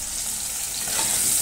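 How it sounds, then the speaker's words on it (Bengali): Potatoes frying in a pan on a home stove, a steady broadband sizzle with a soft hiss that stays close and even throughout, no voices. "আলু ভাজতে দিয়েছি আর এই যে ডিম ভেজে তুলে রাখলাম"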